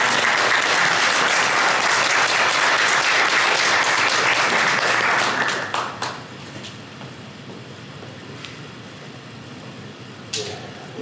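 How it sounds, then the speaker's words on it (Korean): Dense applause from an audience at a forum and tenth-anniversary ceremony greets an incoming speaker, loud and sustained for about five seconds, then fades to scattered claps and room noise. "큰 박수로 맞이해주시기 바랍니다."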